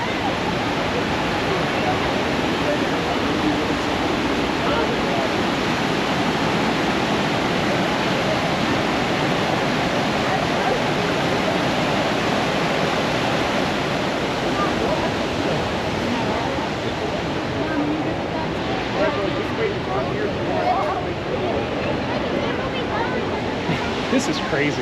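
Hidden Falls in Grand Teton, a steady broadband roar of falling water that holds unchanged throughout, with faint crowd chatter mixed in.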